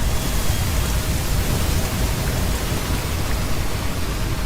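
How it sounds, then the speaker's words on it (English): Steady, dense rain hiss from a video game downpour, broadband and continuous at a constant loudness throughout, with no voices over it. "It's raining."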